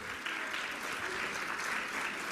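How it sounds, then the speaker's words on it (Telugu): A church congregation clapping hands together in praise, dense sustained applause from many people, loud and even for the whole stretch. "సంతోషం అంటే చప్పట్లు కొట్టి దేవుని స్తుతించండి"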